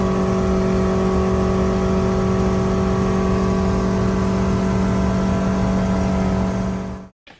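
A vehicle engine fitted with upgraded Edge Performance turbo headers drones loudly and steadily on a test run, holding an even tone for several seconds before cutting off abruptly near the end.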